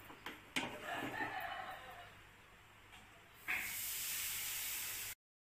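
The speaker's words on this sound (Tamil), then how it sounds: "நெய்யையும் அதே மாதிரி கொதிக்க வச்சுக்கலாம். இந்த மாதிரி ஒரு சத்தம் வரும்." Hot ghee heated for a country-sugar milk Mysore pak bursts into a loud, steady hissing sizzle partway through, after quieter, uneven cooking sounds.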